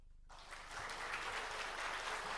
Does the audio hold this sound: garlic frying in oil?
no